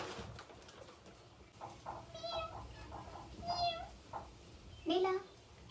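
A cat gives a series of short, close meows, with a sharper cry near the end, over a faint low background hum.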